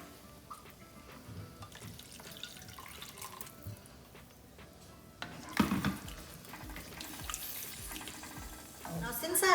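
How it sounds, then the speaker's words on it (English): Thukpa noodle soup being stirred in a pot as a little extra water is poured in, with soft scraping and sloshing, a brief louder splash midway and rising liquid sounds toward the end, no talk over it. "So I'm just going to mix everything and add a little more water."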